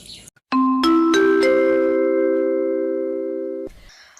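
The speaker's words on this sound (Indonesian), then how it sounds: "bel tanda masuk telah berbunyi" A school bell chime signals the start of class: a sequence of rising electronic ding-dong tones that ring out one after another, then sustain together and decay for about three seconds before cutting off, with no talk over it.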